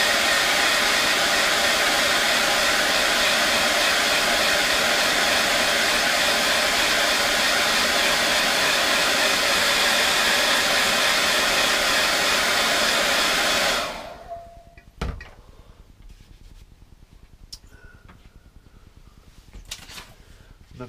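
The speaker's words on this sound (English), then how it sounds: "Let's get the hairdryer on it." Hairdryer blowing on a watercolour painting, a loud steady roar for about fourteen seconds that cuts off abruptly, leaving quiet room sounds and a few faint knocks.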